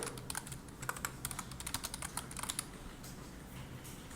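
Text being typed on a computer keyboard during an office software lesson, a quick burst of close key clicks that thins out and stops after a few seconds, with no talking.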